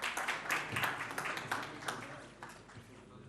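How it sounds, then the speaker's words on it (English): An audience at a young entrepreneurs' forum investment session in Kazan applauds an award announcement. The clapping is dense and fairly loud at first, then fades slowly, with some voices mixed in. "Applause."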